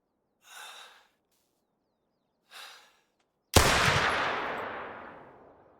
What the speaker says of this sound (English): We're going to have to take a shot.